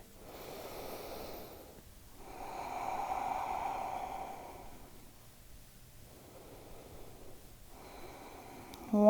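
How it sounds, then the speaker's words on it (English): Slow, deep breaths during a seated yoga stretch, soft and close, with long inhales and exhales rising and falling over several seconds in a quiet room. "One more breath here."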